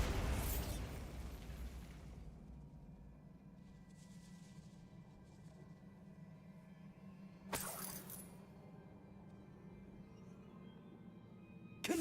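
A burst from the Bombarda spell in a video game, with a loud shattering boom at the start fading into a rumbling wash, then a second sharp crack midway, all over steady low background noise.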